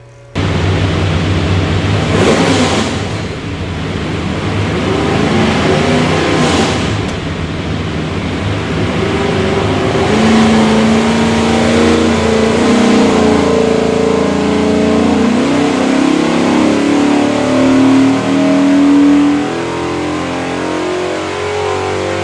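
A 427ci small block Ford engine on a dyno revs hard and loud, climbing through a sustained run with a rising, roaring pitch, heard close up and alone throughout.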